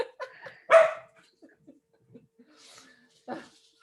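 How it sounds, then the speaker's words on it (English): Dogs bark indoors with a few sharp woofs and short yips, a loud burst followed by scattered quieter barks, interleaved with a person speaking and a brief chuckle. "Been heckled by the dogs."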